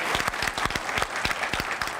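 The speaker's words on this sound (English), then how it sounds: "So let's give them a round of applause and come on up." An audience at an awards event applauds with close, distinct claps layered over a general crowd patter, energetic and fairly loud.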